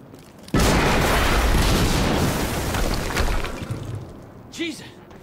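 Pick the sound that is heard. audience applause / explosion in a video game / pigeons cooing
explosion in a video game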